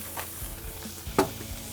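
Water boils and sizzles on a hot burger griddle, a steady crackling hiss with scattered pops and one sharper spit near the end.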